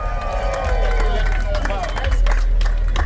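A street crowd at a toy drive car hop cheers and claps loudly, with whoops, scattered applause and dense babble filling the air, voices shouting over the noise.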